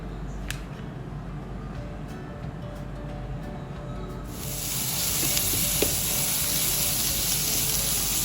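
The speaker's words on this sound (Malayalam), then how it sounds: "ശേഷം ഇതിലേക്ക് ഒരു 2 മീഡിയം സൈസ് വലുപ്പമുള്ള ഉള്ളി അത് വാട്ടിയെടുക്കണം." Onions sautéing in hot coconut oil: a faint sizzle at first, then a louder, steady close frying hiss after they hit the pan, with a light clink of stirring.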